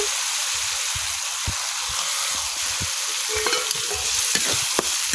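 Pieces of baim and gotom fish fry in oily spice masala in a pan, giving a constant close sizzle. Short scraping knocks from stirring come at uneven intervals and grow more frequent toward the end.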